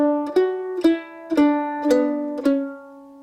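Mandolin picking a measure of the fiddle tune Lost Indian, five clear plucked notes at an even, unhurried pace, each ringing bright and close before the next is struck.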